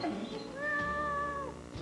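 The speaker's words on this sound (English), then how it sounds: "It's a cat, Woody." A house cat gives a long, drawn-out meow, loud and close, over a steady background hum in a woodworking shop.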